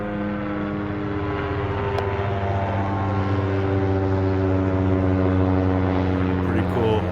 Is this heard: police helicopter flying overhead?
yes